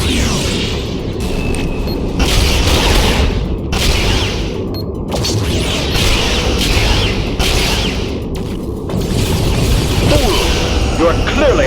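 Romulan ship blowing apart in space combat in the Star Trek Legacy video game, loud repeated booming blasts and bursts of fire through most of the stretch, with game voices speaking over the action.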